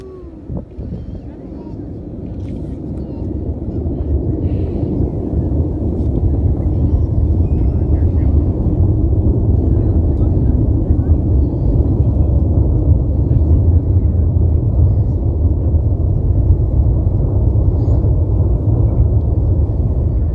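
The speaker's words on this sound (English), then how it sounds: "There's your Atlas V rocket carrying the GPS satellite." An Atlas V rocket carrying a GPS satellite lifts off at Kennedy Space Center, its deep roar building from a quieter start into a sustained, heavy, crackling rumble heard from a distance.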